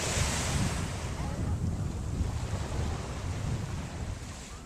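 Waves and wind at Valencia beach, with sailboats out on a warm day: a continuous loud roar of surf mixed with heavy wind buffeting the microphone, with no clear voices.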